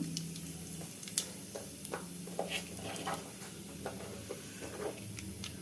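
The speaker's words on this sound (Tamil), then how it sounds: "அந்த எண்ணெயில் வந்து கொஞ்சோண்டு கடுகு போடுறேன்" Mustard seeds sizzle and pop in hot oil left over from frying onions for onion rice, a steady quiet frying hiss dotted with small irregular crackles, with no talking.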